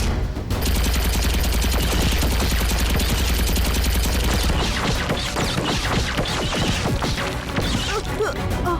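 In the animated Kicko & Super Speedo cartoon, rapid gunfire and smashing blasts crash together in a loud, dense barrage of overlapping impacts and rattling bursts that continues for several seconds.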